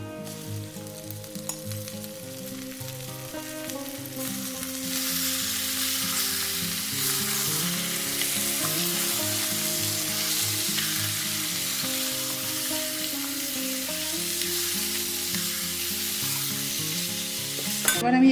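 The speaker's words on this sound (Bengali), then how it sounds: "এবার আমি চিকেনটা দিয়ে দেবো," Chicken pieces go into a pan of fried onions and hit the oil with a sudden, loud, sustained sizzle while being stirred. The frying continues steadily and close up over a soft tonal background, with no talking.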